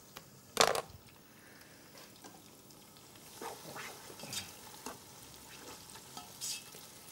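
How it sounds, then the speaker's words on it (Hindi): Onions frying and being stirred in a pan while cooking chicken haleem, with a sharp clatter near the start and then soft, intermittent stirring scrapes over a low, steady sizzle, no voices. "प्याज को जलाना नहीं है, ब्लैक नहीं करना, लेकिन थोड़ा सा पकाना है।"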